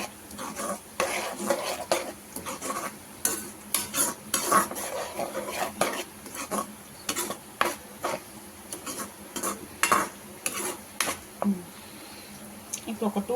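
Masala paste sizzles and fries in oil in a pan with frequent stirring and scraping clatters, steady and close, no voices.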